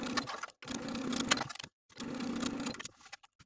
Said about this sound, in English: I'm going to sew close to this folded edge of the bias tape on the inside of the garment all the way around to